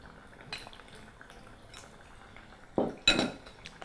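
Potatoes stirred through melted butter in a pan while making spicy bhajia, with a few sharp clinks of a utensil against the pan, the loudest near the end, over a low background.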